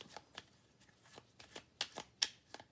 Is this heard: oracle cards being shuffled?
yes